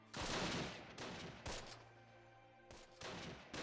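Gunfire from the Close Combat video game, with a German Kampfgruppe in battle: several rapid bursts of rifle and machine-gun fire with short gaps between them, fairly quiet and with no speech.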